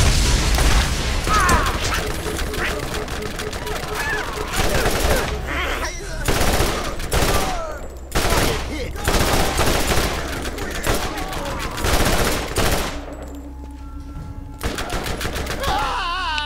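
Video game gunfire in Borderlands after a weapon swap: sustained automatic bursts with loud, dense volleys and brief pauses between them, ending in a quieter stretch before more shots, with faint mechanical clatter throughout.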